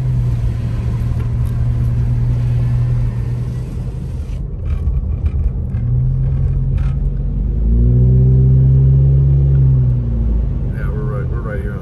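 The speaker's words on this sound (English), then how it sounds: "Tow truck like hauling butt, like just catching up with me" A tow truck comes up from behind on a snowy road near a mountain ski resort, its engine rumble rising to a loud, close roar with a climbing drone partway through, over steady road and wind noise.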